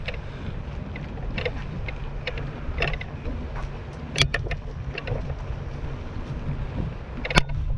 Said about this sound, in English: change the gear, make it harder